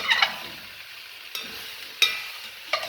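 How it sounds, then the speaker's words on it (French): Venison being stirred with aromatic herbs in a pot, a faint background sizzle with a few sharp scraping strokes of a utensil spaced about a second apart, close by and without talk. "On va aussi rajouter nos herbes aussi, aromatiques pour parfumer notre viande. Et on va mélanger avant de rajouter notre vin"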